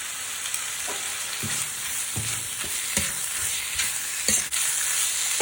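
Pork sizzles in a hot electric pan over medium to high heat while a utensil scrapes and stirs it in irregular strokes, cooking Thai northern-style nam phrik ong.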